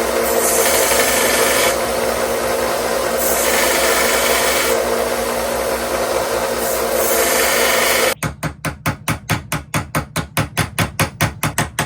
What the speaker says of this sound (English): now we're gonna sand that flat and get it real close and form that head